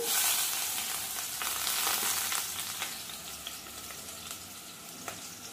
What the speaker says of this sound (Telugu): కట్ చేసి పెట్టుకున్న ఉల్లిపాయలు, పచ్చిమిరపకాయలు వేసుకోవాలి